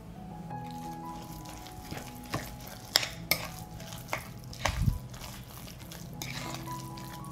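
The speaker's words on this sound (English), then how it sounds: "I'll stir" A spoon stirs an egg and breadcrumb mixture for patties in a bowl, scraping and knocking against the sides in uneven strokes with a few sharper clinks, close and alone.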